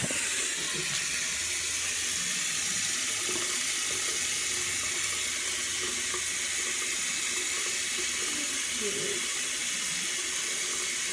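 Warm water runs steadily from a bathroom sink tap, a constant close-up gush that continues without a break and without speech.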